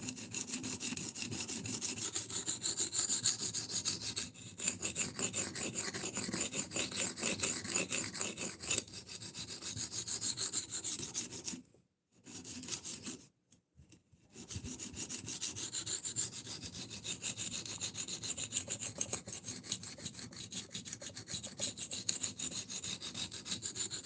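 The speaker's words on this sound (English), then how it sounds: "this isn't as bad at sharpening as I thought it was going to be" A knife is sharpened with steady, continuous rasping strokes that run close and loud, broken only by a brief pause midway before the grinding resumes.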